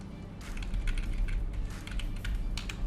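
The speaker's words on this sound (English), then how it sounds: "Let's move it with the keyboard." Keys clatter on a computer keyboard in quick irregular bursts, close and fairly loud, during work in editing software, with no speech.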